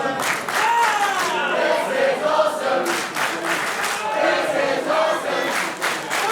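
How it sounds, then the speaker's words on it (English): A wrestling event crowd erupts into a loud, sustained chant, many voices shouting in rhythmic waves that fill the arena and carry on without a break. "The crowd erupting into a chant that I'm sure we all can agree with."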